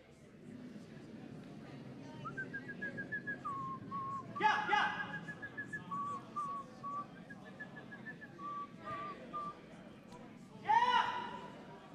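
A person whistles songbird-like trills and warbles at a curling bonspiel, with rising and falling phrases repeated over several seconds amid arena chatter and cheering voices.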